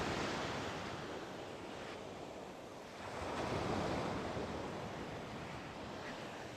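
Ocean surf rolling onto a Stradbroke Island beach, a continuous broad wash that swells into a louder breaking wave midway, mixed with wind buffeting the microphone.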